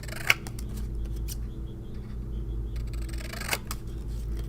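Scissors snipping through card stock while cutting a square, close and fairly quiet over a steady background hum, with a couple of sharper snips and faint scattered cuts and no talk.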